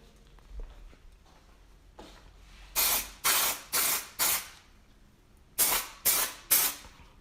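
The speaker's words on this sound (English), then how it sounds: "so I'll just spray her down. Some release agent." An aerosol can of release agent sprays onto a mold in seven short, sharp hissing bursts: four in quick succession, a pause, then three more, close and fairly loud against a quiet room.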